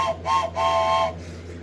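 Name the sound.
steam engine whistle blown long and loud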